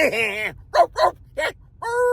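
A dog gives several short barks and yips with a longer whining, whimpery call at the start and end, close and fairly loud, with no other sound between the bursts.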